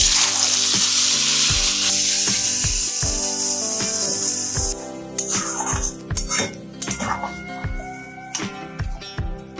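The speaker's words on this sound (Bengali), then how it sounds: "মশলাটা আমি যে পেস্টটা করে রেখেছিলাম সেইটা ঢেলে দিলাম" Spice paste poured into hot oil with bay leaf and cloves, hissing loudly at first and settling into a softer sizzle, punctuated by repeated utensil taps and scrapes against the pan, close up without talk.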